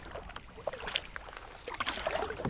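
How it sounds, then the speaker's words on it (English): A canoe being paddled across a lake on a solo camping trip, with soft, quiet paddle strokes and light water splashes recurring over a faint background hiss, with no talking. "Just kind of paddling and reminiscing at the same time."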